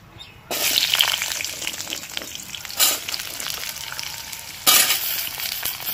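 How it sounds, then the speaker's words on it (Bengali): Diced potatoes hit hot oil in a pan with a sudden loud burst of frying, then settle into a steady crackling sizzle, with two more surges as they are moved or stirred. "আলুগুলোকে দেখো এরকম ডুমো ডুমো করে কেটে নিয়েছি। এগুলোকে ভাজবো।"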